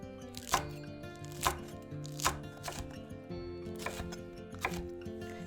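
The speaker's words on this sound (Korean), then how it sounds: "고추도 비슷한 두께로 어슷 썰어주세요" Knife slicing green chili peppers on a cutting board, about seven sharp, distinct chops at an irregular, unhurried pace, close and clear with no talking.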